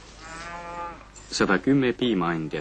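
Dairy cows on an Estonian collective farm give a long, low moo, then several louder, shorter calls close by, with no talk over them.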